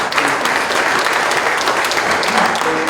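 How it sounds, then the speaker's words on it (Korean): At a church mission board's general assembly held in a chapel, the gathered members give a round of thanks applause for the election committee. It is a full, even burst of clapping with no talk over it. "우리 감사의 격려 박수"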